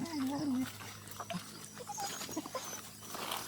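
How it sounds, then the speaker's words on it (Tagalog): A dog whines and whimpers in short high-pitched bursts while a person talks nearby, outdoors with faint background noise. "isang aso namin dito na nakatambay"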